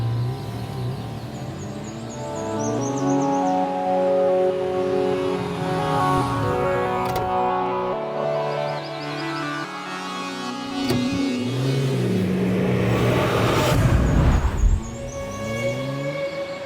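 A car revs and pulls away, its engine note rising and falling through several surges over a steady, fairly loud hum, with a brief squeak near the end.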